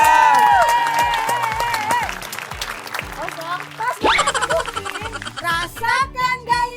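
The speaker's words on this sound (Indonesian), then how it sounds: "Boleh kita berikan tepuk tangan." A studio audience at a televised cooking competition applauds after the teams finish their challenge, with dense clapping mixed with loud cheering and overlapping talk from the host.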